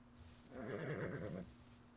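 A horse neighs in the video game The Legend of Khiimori, one clear whinny lasting about a second, louder than the faint steady game ambience around it.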